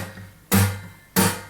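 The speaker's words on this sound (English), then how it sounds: "percussive sound created by the palm of our hand being slapped onto the strings" Two sharp percussive palm slaps onto acoustic guitar strings, each a loud thump with a bright buzzing attack that quickly decays, evenly spaced with near silence between.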